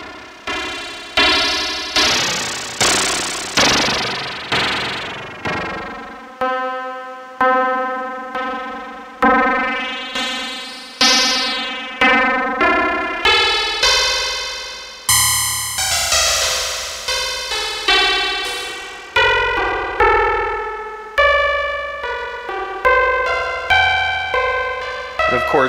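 Bright, metallic FM synthesizer notes from a Synthstrom Deluge with shifting bell-like overtones play a continuous melodic sequence, each note attacking sharply and decaying, loud and up close.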